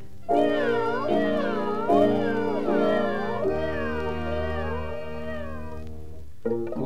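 Several voices imitate cat meows on a 1956 children's record, a run of drawn-out, wavering mews in close succession, loud and near, with a brief pause near the end.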